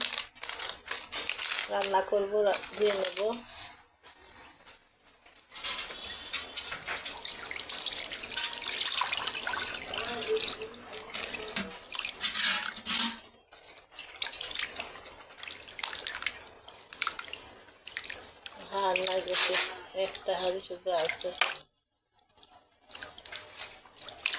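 Cut pieces of meat being washed in water: splashing, dripping and handling sounds in bursts with pauses, while someone talks over much of it.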